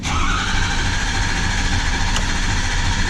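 A 2013 Ford F-250 pickup raised on a lift at a dealer, its engine running at a steady, loud idle throughout with a constant broadband rumble close by.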